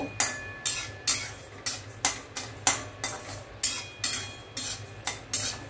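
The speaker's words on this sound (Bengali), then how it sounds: "গোবিন্দভোগ চালটাকে আমি একটু শুকনো খোলায় নেড়ে নিচ্ছি অল্প" Gobindobhog rice is stirred in a dry pan over low heat, with a steady run of scraping, rasping strokes about twice a second, close and clear, with no voices.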